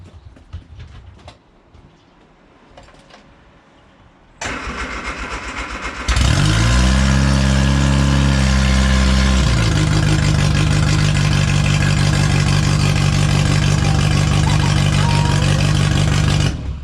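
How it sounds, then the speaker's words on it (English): A classic Mini's small engine cranks briefly, then roars to life loudly and settles into a steady, rumbling idle that continues to the end. "It's probably not going to start for a few cranks. When it does, it'll be very, very noisy."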